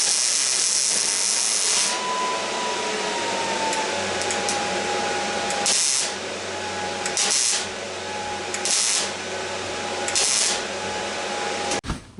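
Welding on the inner pillars of an airport limo, a loud continuous hissing, crackling arc with a faint steady whine, broken by short pauses and bursts over about twelve seconds.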